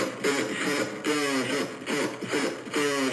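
A music track processed with distortion, overdrive and bit crusher effects, giving a crunchy, gritty tone with harmonic, voice-like phrases that repeat at a steady mid-level loudness throughout.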